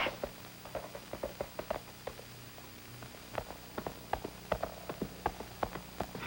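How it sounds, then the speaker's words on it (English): A horse's hooves clip-clop at a gallop in a steady, quick rhythm of sharp hits, close by and growing slightly louder, with no voices. "We gallop through the thick jungle forest."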